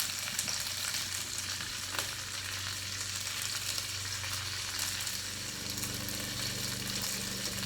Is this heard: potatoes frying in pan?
yes